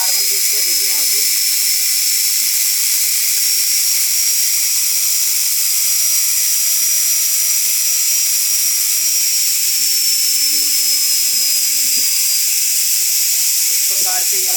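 A universal motor from a front-load washing machine, run on the bench with its carbon brushes exposed, whines steadily at full RPM as a high sustained tone through the whole stretch while someone talks over it.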